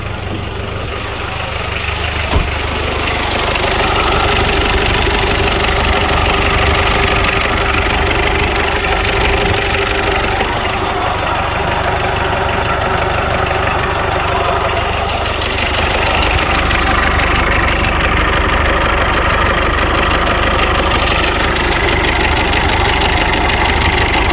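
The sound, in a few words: Mitsubishi Pajero 4D56T diesel engine running, chopped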